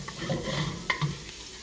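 Garlic fries in a pan for Szechuan chicken, a soft, steady sizzle with a brief stirring clatter, heard close and alone.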